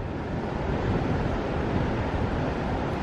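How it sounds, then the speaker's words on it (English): Ocean waves break along the rocky coast at Gray Whale Cove, California, as a steady, dense roar of surf and whitewater mixed with wind noise, with no voices. "there are some breaking waves kind of in this area"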